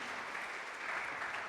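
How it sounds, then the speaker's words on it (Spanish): Church congregation clapping during a sermon, a brief dense burst of many hands, steady and fairly soft throughout. "denle un fuerte aplauso al Señor"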